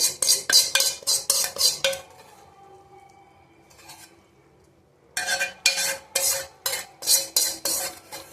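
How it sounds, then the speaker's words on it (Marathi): A spoon scrapes and clinks rhythmically against a pot as cooked dal is stirred into a tadka, with a quieter pause mid-way before the brisk, steady stirring strokes resume up close. "ते सगळं डाळ मी ह्याच्यामध्ये घालून घेणार आहे"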